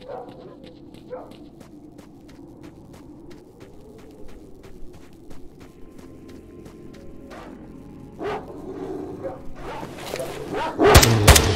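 Dogs barking in the video game STALKER, a series of short repeated barks and yips at moderate distance over a quiet hum, growing louder and busier toward the end with crashing noise.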